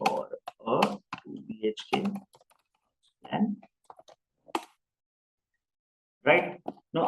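Someone types a search phrase on a computer keyboard in short, irregular clusters of key clicks with gaps between them, close by, and speech is also present.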